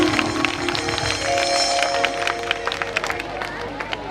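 Clapping breaks out from the audience at a large Mother Bhagwati devotional jagran. The applause is fairly loud over sustained instrumental tones and background crowd murmur.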